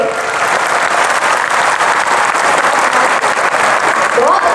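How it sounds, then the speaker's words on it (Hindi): A live bhajan crowd claps loudly and densely for several seconds at a religious katha gathering, the applause steady and close, with a voice rising briefly near the end. "एक बार जोरदार तालियां आप अपने लिए बजाइए"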